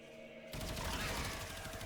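A gun in the video game Warframe fires nonstop through a full magazine, a dense, loud, rapid stream of shots that begins abruptly after a brief quiet moment and keeps going.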